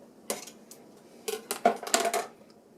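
A metal spoon stirs brisket chili in a pot, giving several close, clattering scrapes and knocks in quick irregular bursts, with no voice.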